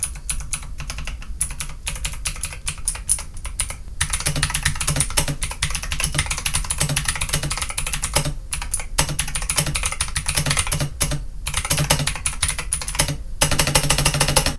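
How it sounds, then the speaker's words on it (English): Mechanical keyboard with blue switches typed on steadily, a dense run of crisp, clicky keystrokes close up with brief pauses, no voices. "let's get a sound test. It's obviously a blue switch."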